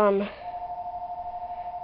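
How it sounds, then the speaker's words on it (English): A brief voice gives way to a phone ringing, a steady electronic tone that pulses evenly and keeps on at moderate volume. "and the phone's ringing"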